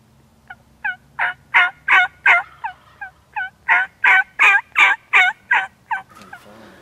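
A wild turkey in the Idaho woods gobbles in a long rapid string of about fifteen loud, rattling calls, fairly close and clear against quiet surroundings.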